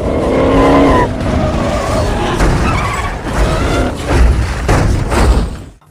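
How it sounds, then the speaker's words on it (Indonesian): Cars speed along a highway in a film chase involving a heist crew and police, engines roaring loudly with tires squealing and skidding, punctuated by sharp bangs and thuds, a dense and continuous action soundtrack. "Terjadi kejar-kejaran mobil di jalan raya antara tim Dom dan polisi."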